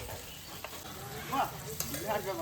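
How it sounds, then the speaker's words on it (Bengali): Sliced onions with salt fry in hot oil for biryani, a soft continuous sizzle with occasional stirring scrapes, fairly quiet and close, a voice faintly present underneath. "লবণটা দিলে তাড়াতাড়ি বেরেস্তাটা ভাজা হয়ে যাবে"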